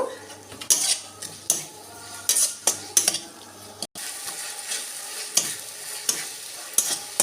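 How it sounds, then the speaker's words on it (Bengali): Chopped tomatoes with salt fry in a pan while a utensil stirs them, producing repeated scraping clanks over a soft, continuous sizzle, close and without talk. "এবার টমেটো একটু কষে নিয়ে"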